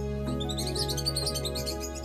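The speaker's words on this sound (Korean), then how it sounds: "아기 새들의 노래 덕분에 시계나무의 마음은 봄처럼" Baby birds singing in a children's storybook scene, bright overlapping chirps and tweets over a steady musical background, lively throughout and moderately loud.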